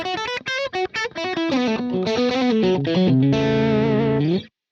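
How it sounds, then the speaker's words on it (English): Electric guitar played through a Focusrite Scarlett 2i2 interface into Ableton with a distorted effects tone, starting with short choppy stabs and moving into sustained ringing notes and a held chord that cuts off abruptly. "All of my guitar playing is now going into the Scarlett 2i2, through Ableton, and then back to my speakers in real time"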